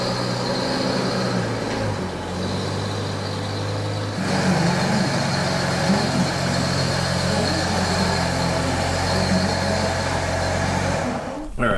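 A Chevy TrailBlazer truck with a 4.2 I6 engine rumbles steadily as it is driven into an empty garage, its low engine hum continuous and close throughout, swelling slightly partway and cutting off at the end.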